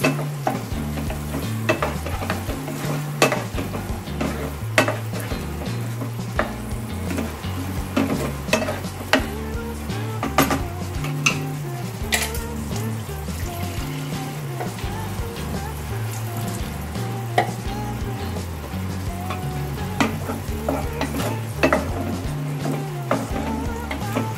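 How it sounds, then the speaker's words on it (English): Cheese pieces being sautéed in a pan while making macaroni: continuous frying sizzle with repeated stirring scrapes, under a steady musical backing track with a rhythmic low-end pattern throughout. "So let me saute once again in order to add color to the pieces of the cheese."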